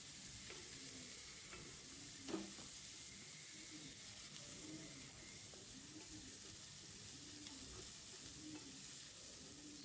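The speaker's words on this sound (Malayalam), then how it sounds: "ഇപ്പോൾ കേബേജ് ഇട്ട് കൊടുക്കാം. നല്ലൊന്ന് മിക്സ് ആക്കി കൊടുക്കണം കേട്ടോ." Carrot, capsicum and cabbage being stir-fried in a pan, with a soft steady sizzle and repeated rhythmic stirring scrapes through the whole stretch, fairly close and quiet, with no talk.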